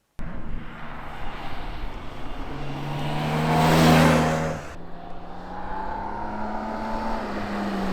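A BMW K1600GT motorcycle with a 1.6-litre six-cylinder engine accelerating hard, its smooth rising drone building to a loud peak, then dropping as it shifts and climbs steadily again with no voices.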